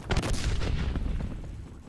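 A suppressed M870 shotgun fires in a video game. One heavy, booming shot hits at once and its rumbling tail fades out over about two seconds.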